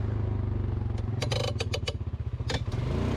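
2023 Polaris Sportsman 570 ATV riding an off-road ORV park trail, with a steady low engine drone and a dense run of rattling clatter and thumps from the bumpy ground partway through.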